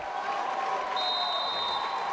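Basketball crowd noise at the Magic Dome during a February 2017 district playoff game between Loyalsock and Hughesville, a steady wash of cheering and applause filling the gym with a sustained whistle-like tone partway through.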